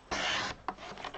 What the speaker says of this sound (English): So let's trim a bit off there.